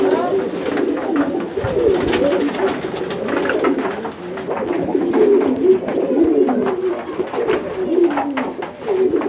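A pair of magpie pigeons coos in low, repeated throaty rolls that run steadily throughout, close and clear, with someone talking over them and scattered clicks and rustles in the background.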